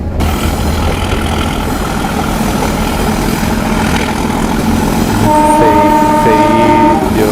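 A metre gauge train on the Omkareshwar line rumbles past with loud, steady rail noise and wheel clatter, then its horn sounds in sustained blasts near the end.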